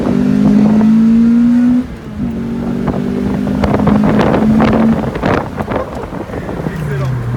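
The engine of a non-turbo BMW E36 revs hard to high rpm, with the tone climbing and holding, heard from inside the moving car under heavy wind noise while people talk.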